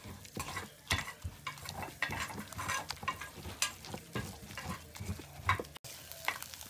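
Chorizo frying in a pan while being stirred, a close sizzle broken by repeated scraping and knocking strokes of a utensil against the pan in an uneven rhythm.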